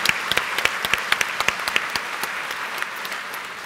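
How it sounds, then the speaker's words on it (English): A panel audience at The Gathering 2018 gives a round of applause, distinct sharp claps from nearby hands standing out over a softer wash of clapping that gradually thins and fades. "I think we could give them another round of applause"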